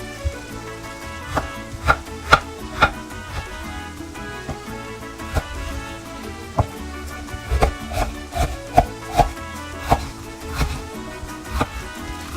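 A knife slicing peppers on a cutting board, a long run of sharp, irregular chops and taps, close and clear with no voices.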